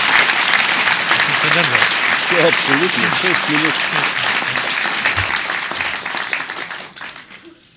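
Hall audience applauding: dense, sustained clapping that runs loud under a man's brief speech, then gradually thins and fades out toward the end.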